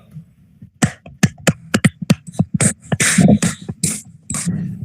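Scattered hand claps from a small group of students in a classroom practice session, a loose run of sharp separate slaps that thickens toward the end, with a voice briefly heard over it.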